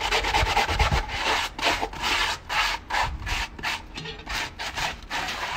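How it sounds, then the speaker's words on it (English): Scrunched aluminium foil scraped and rubbed around the inside of a metal pan, a steady close-up abrasive rasping in uneven back-and-forth strokes with no talking. "Get yourself some foil, scrunch it up, and then just rub it around this pan."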